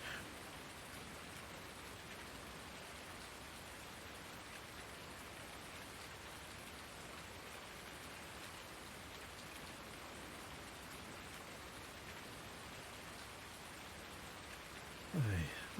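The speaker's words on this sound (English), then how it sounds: "Oh, that is a nice sound. I love the rain." Rain falls steadily in the farming video game Farming Simulator 19, a constant even hiss of drops on surfaces, soft and unbroken throughout, with a brief low thump at the very end.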